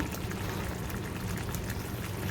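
Onion and tomato paste sautéing in a pan for a koi fish curry: a steady, dense bubbling sizzle with soft spattering, continuous and close with no talk.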